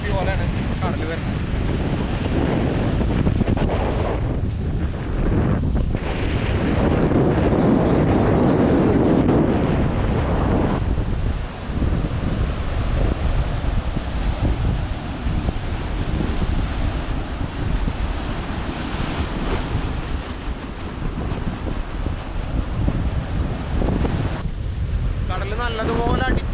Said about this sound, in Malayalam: നല്ല തിര പൊട്ടി വരുന്നുണ്ട്.